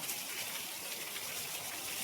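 Heavy rain pours down in a dense, unbroken hiss, loud and steady throughout with no voices.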